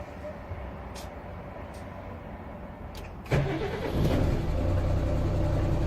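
Daewoo Novus 280-horsepower truck diesel engine fitted with a turbo support part, cranking briefly then catching and settling into a rough, loud idle after a few quiet seconds.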